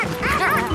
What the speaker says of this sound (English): When he heard her bark, he knew it was Charky.